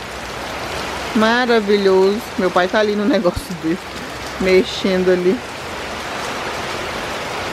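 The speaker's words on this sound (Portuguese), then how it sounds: "Tá chovendo muito, muito mesmo aqui." Heavy rain pours down steadily as a dense, loud hiss filling the whole stretch, while someone talks close by over it for several seconds.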